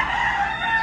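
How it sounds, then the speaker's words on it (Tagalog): Chickens on a Philippine property, with a rooster crowing loudly and close by in one sustained, strained call, while hens cluck underneath. "ang ingay ng manok na"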